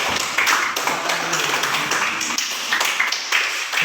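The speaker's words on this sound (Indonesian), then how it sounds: "tepuk tangan untuk kelompok 1" A classroom of students claps for the first group, a burst of uneven hand claps with scattered sharp taps, moderately loud and close, tapering slightly toward the end.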